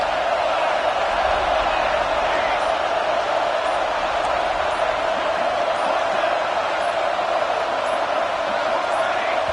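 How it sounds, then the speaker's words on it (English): Stadium crowd at a football game between EMG and Miami roars steadily throughout, a loud, sustained wall of noise with no clear pauses and no distinct talk. "with this place rocking, the crowd forces a false start"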